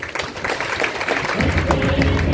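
Seminar audience in a hall applauding, a dense wash of clapping that swells and grows steadier after a moment, with a voice briefly audible underneath.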